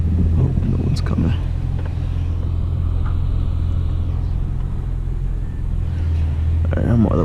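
A Toyota 4Runner (2003–2018 generation) on a test drive after a brake pad job, giving a steady low road and engine rumble throughout, with brief voices near the start and end.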